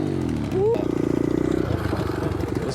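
An SSR 125 dirt bike engine revs up and holds a steady high note for a wheelie, loud and close, with a voice talking over it at the start.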